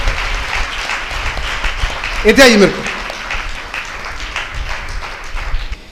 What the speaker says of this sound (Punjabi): ਜ਼ੋਰਦਾਰ ਤਾੜੀਆਂ ਨਾਲ ਇਹਨਾਂ ਦਾ ਸਵਾਗਤ ਕਰਾਂਗੇ।